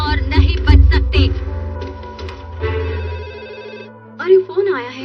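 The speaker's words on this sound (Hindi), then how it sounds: "अरे फोन आया है।" A telephone rings in a Hindi-dubbed Doraemon cartoon episode, a repeated electronic bell tone that rises clearly over cartoon voices talking, with a brief louder burst near the end.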